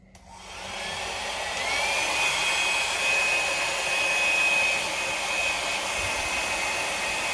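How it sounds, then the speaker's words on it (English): A hair dryer switches on and blows steadily at close range over a Dutch pour painting, a loud continuous whooshing roar with a faint high whine, no voices. "So I hold my hair dryer upside down"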